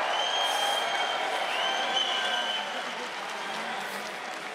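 A crowd at a grappling event claps and cheers in a steady wash of applause from the surrounding audience, moderately loud and continuous, with a few whistles standing out.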